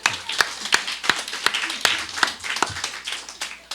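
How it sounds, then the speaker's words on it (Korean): Hands clap in a steady, fairly quick rhythm as an audience applauds during a church talk, close and clear with no voices over it. "박수 한번 할까요?"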